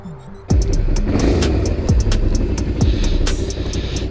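Suzuki SV 650 motorcycle engine starts abruptly after a quiet moment, a loud close rumbling drone with a throbbing low pulse and a few rising revs, steady to the end, no talk.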